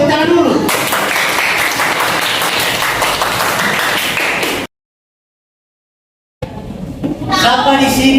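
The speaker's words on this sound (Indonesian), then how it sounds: "Oke, tepuk tangan dulu." Audience applause during a talk at a seminar, a dense, loud burst of clapping lasting about four seconds that stops abruptly into silence, then resumes with mixed voices.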